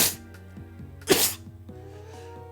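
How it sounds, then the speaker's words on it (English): One brief, sharp sneeze bursts out near the middle over soft game background music, close and loud against the quiet backdrop. "I told you I was gonna sneeze."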